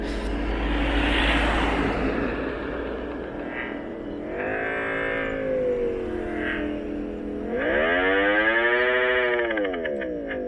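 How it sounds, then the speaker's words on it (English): An Ola S1 electric scooter plays a simulated engine sound through its speakers, following the throttle. The synthetic, siren-like tone rises and falls in a few swelling surges over a steady hum, loud and close, with no talking. "the mode sound is nothing but the audio of an engine that is being simulated through the speakers according to your throttle input"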